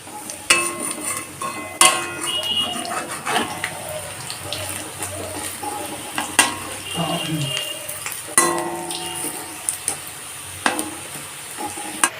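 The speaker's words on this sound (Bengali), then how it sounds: "বাকি বড়াগুলোকেও একইভাবে ভেজে নিচ্ছি" Small shrimp fritters fry in mustard oil over a high flame, a loud, bubbling sizzle punctuated by frequent clattering scrapes and knocks as they are turned.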